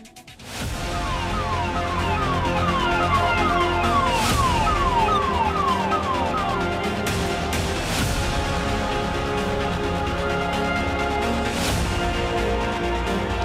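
An ambulance siren wails outside a large Delhi hospital, with a loud, continuous warbling tone rising and falling over steady street noise and traffic throughout, and no speech.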